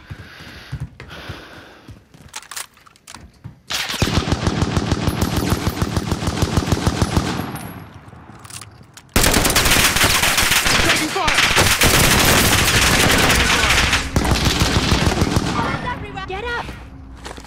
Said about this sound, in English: now I can actually fucking shoot some of these pricks I keep seeing.